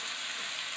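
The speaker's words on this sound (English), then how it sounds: "So just stir it." Chicken stir fry with Singapore noodles frying in a pan, a steady close hiss of sizzling oil with faint stirring, brief and without speech.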